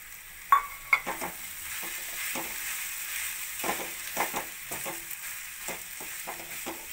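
Spiced potatoes go into a pan of cooking vegetables for dosa masala, starting with a couple of sharp clinks, then soft sizzling and scattered stirring scrapes, quiet and close, with no talking.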